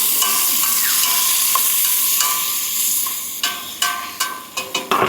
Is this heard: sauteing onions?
yes